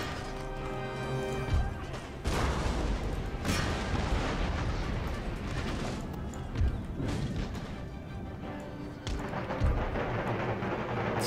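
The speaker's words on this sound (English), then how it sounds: "Target my howitzers rapidly." Howitzer artillery volleys in Empire: Total War, heavy booming blasts and crashing impacts repeating irregularly over a dense battlefield din.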